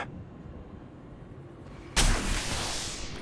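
Gunfire in the mobile battle royale game Apex Legends Mobile bursts in suddenly after a quiet stretch, one loud blast followed by a sustained, decaying roar of shots.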